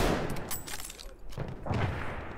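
Battlefield 1 gunfire crackling in a dense, continuous burst of rapid shots with two heavier thumps, close and loud throughout.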